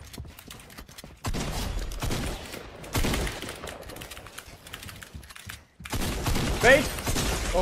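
Rapid bursts of gunfire in the video game Fortnite, loud clattering volleys in several stretches with brief gaps, while players talk over them.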